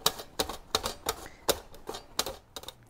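Squash is sliced on a hand slicer in a home kitchen, with about eight sharp, evenly spaced strokes in quick rhythm, close and fairly loud.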